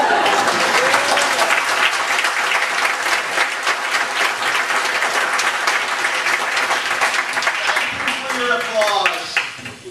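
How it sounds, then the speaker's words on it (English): A theater audience applauds at a live show, sustained dense clapping that stays loud for several seconds, then tapers as a voice begins speaking near the end. "Applause."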